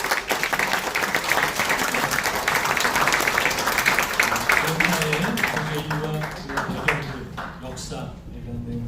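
An audience applauds after a seminar presentation on the United Nations Command and Korean security, a loud sustained clapping that tapers toward the end while a voice speaks over it.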